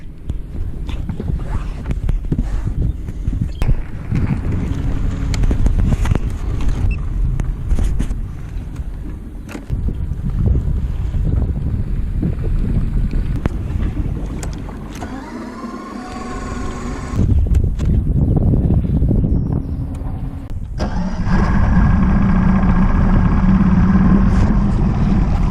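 A Yamaha outboard boat motor on a lake cranks and catches, then settles into a loud, steady running drone, with buffeting wind noise across the microphone and low rumble through the first half.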